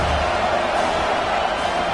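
A stadium crowd at a college football game between Oregon and Nebraska roars steadily on senior night, a dense, loud wash of cheering that holds for the whole stretch.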